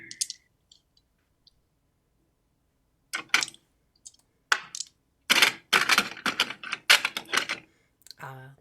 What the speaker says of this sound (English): The beautiful sound of dice. Clicky clacky.